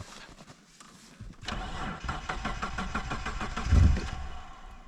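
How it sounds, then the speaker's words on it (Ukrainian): A Mitsubishi Pajero 3.0 V6 engine catches after a cold start that tends to be hard, cranking briefly and then running with a rough, uneven mid-pitched idle and a small rev bump, close by. "Кстати, заводиться погано, вибачай. На холодно що то взагалі погано."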